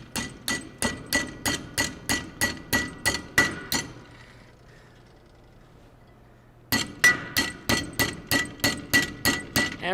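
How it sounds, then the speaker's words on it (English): A hammer lightly taps a metal bar clamped in a vise, giving sharp ringing metallic clinks in a quick steady rhythm. About three seconds of strikes, then a pause of a few seconds, then the tapping resumes. "we're just going to lightly tap this over"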